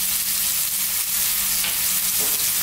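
Minced garlic and ginger with a pinch of salt fry steadily in a pan over medium heat for a prawn curry, giving an even, close sizzle with faint stirring and no talk.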